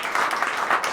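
Brief applause from an audience at a local song swap, steady close clapping over about a second with no voices.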